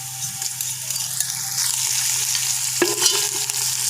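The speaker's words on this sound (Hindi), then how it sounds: "अब इसके अंदर मैं लहसुन अदरक का ये पेस्ट डालने लगा हूँ।" Garlic-ginger paste fries in a pot of browned onions for Peshawari pulao, a steady close sizzle with a sharp stirring scrape near the end.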